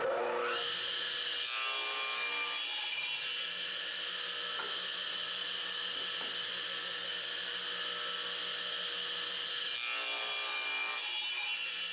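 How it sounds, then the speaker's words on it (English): Wooden planks are cut to length with a hand saw for a nativity stable build, giving a continuous rasping stroke sound that runs steadily for the whole stretch, close and fairly loud. "now I'm going to cut the planks to length."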